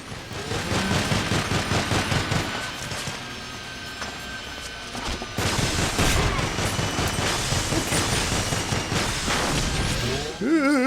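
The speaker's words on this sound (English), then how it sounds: "Stop pelting grenades!" Rapid gunfire and booming grenade blasts from the GoldenEye Rogue Agent video game, loud and dense for about ten seconds, with a brief voice near the end.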